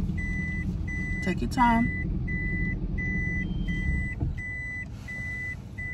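A car backing up during a driving lesson sounds a regular series of high reversing beeps over a low engine idle, with a brief voice speaking partway through.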